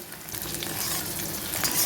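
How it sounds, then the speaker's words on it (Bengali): Onion, green chili and garlic fry in a wok with a steady, loud crackling sizzle and occasional stirring scrapes, no voices over it. "সেটাই ভাজা হয়ে গেছে আর একটু লাল হলে তুলে নেব"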